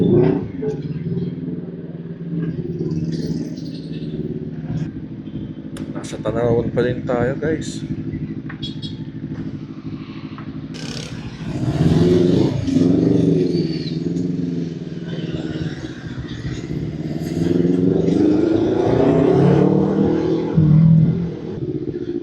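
Busy road traffic in Tanauan heard from a Vespa scooter weaving through congestion, with steady engine rumble and passing vehicles revving nearby, under someone talking throughout.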